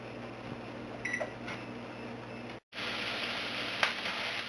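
Ground meat browning in a pan on medium-high heat, a constant close sizzle with a few faint clicks and scrapes, broken by a brief silent cut before the frying resumes.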